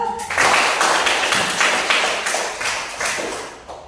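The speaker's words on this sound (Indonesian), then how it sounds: "Tepuk tangan dulu." Classroom applause at a teacher training session, a small group clapping in uneven bursts for a student, moderately close and sustained for about four seconds.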